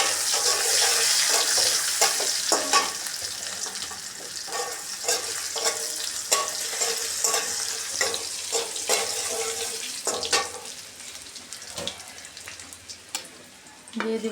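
Potatoes frying in hot oil with dried chilies and radhuni in a village kitchen: a steady, bright sizzle and crackle, loud at first and then slowly easing, broken by scattered sharp pops and clacks of stirring.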